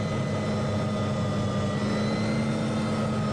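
Aircraft engine at full throttle in a VRChat flight world, a loud steady droning roar with a low hum and sustained tones, continuous and unchanging, no voices.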